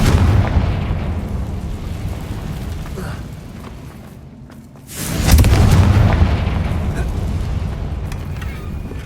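A Confringo explosion spell in Hogwarts Legacy gives a loud, deep boom that drops into a brief lull and then bursts again into a sustained roaring blast.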